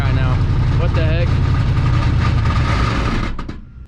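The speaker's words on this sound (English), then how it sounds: "It's running. It's actually idling right now." Old Chevrolet squarebody truck's 6.2 diesel engine, left abandoned in the woods for 22 years, idling with a loud, steady low rumble and a rough mechanical whine, people talking over it before it cuts off.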